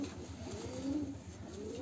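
A high flyer breeding pigeon gives soft, low cooing calls nearby, a faint drawn-out murmur over a quiet background without speech.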